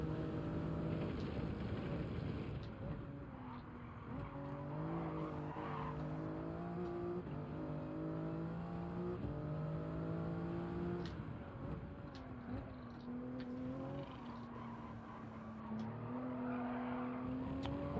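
Race car engine in a racing video game revving through steady rising and falling gear pitches, with tire squeal and skidding sliding through a corner, loud and continuous throughout.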